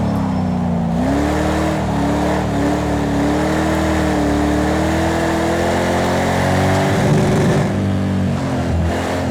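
A Ford Mustang with stock setup held in a drift in Project CARS 2, its engine droning steadily at high revs with pitch wavering as the throttle is worked, loud and continuous throughout without any talk.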